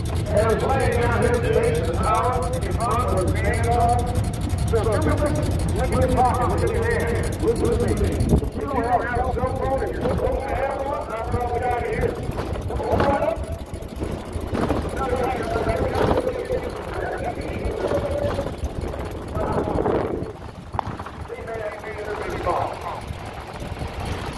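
A 1916 Ford Model T driving, its engine chugging and rumbling steadily under wind noise while people talk throughout the ride.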